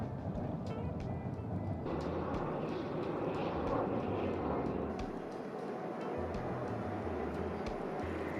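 A steady, broad engine roar from an airplane passing overhead in London, loud and continuous with a low rumble throughout.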